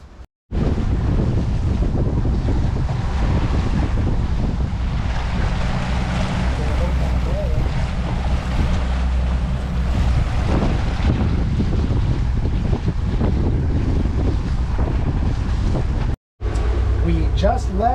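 A boat heading out to sea from Port Largo Canal near Key Largo, with loud constant wind rumbling on the microphone and wash of waves. It is continuous and close throughout, with a brief dropout near the end.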